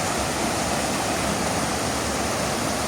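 A clear mountain river stream rushes steadily in a forest, a loud, continuous broadband wash of flowing water close by with no voices over it.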